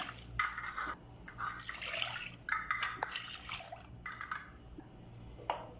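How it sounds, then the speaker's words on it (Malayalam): Milk poured into a pan for palada pradhaman, uneven splashing pours in several bursts with small drips and a faint clink of the pan, close by with no speech. "മൂന്ന് കപ്പ് പാൽ ഒഴിച്ചു കൊടുക്കാം"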